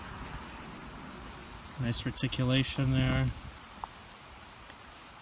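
Steady rain patters on leaves and ground in a steep forest during a mushroom hunt, a constant soft hiss throughout, while someone speaks briefly in the middle.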